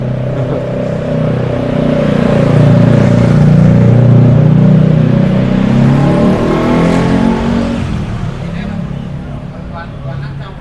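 A car passes close by on a busy street in Seminyak, Bali, its engine rising to a loud swell mid-clip and then fading away, with a voice speaking over it.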